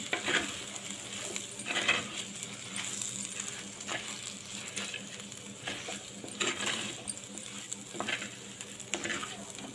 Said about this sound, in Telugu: ధనియాల పొడి జీలకర్ర పొడి కల్లుప్పు అంతా వేసి కలుపుకుందామండి